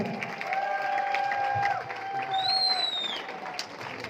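Applause and cheering from an audience at a business success celebration, moderate and sustained, with sustained tones and a rising whistle-like sound over the crowd noise.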